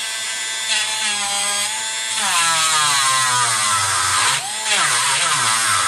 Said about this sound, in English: Let's do the Dremel here.